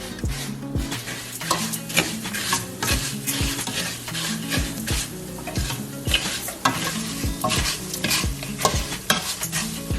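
Rice browning in a pan for Mexican rice, stirred back and forth with steady sizzling and repeated scraping strokes of a utensil against the pan, close and continuous with no talking.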